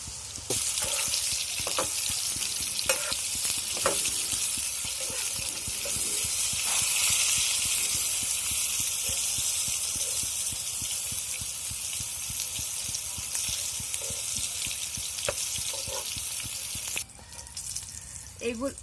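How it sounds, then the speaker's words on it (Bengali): Sliced pointed gourd (potol) fries crisp in hot oil, giving a loud, steady hiss and sizzle that runs throughout with occasional sharp pops and clicks. "এই পিঠটা আমি কড়া করে ভেজে নেব, তাহলে খেতে সুন্দর ভালো লাগবে।"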